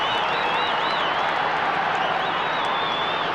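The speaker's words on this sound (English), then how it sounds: "this big St.Kilda crowd would really roar them on" A large St Kilda football crowd at a 1995 Ansett Cup semi-final against North Melbourne roars and applauds in a dense, continuous wall of noise, with a few shrill whistles riding above the sustained cheering.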